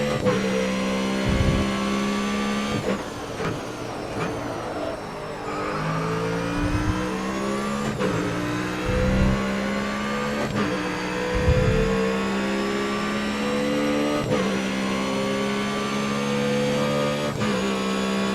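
A touring race car engine on a hot lap in Grid Autosport revs hard through repeated upshifts and downshifts, with rising and falling whines, loud and continuous, with no talking.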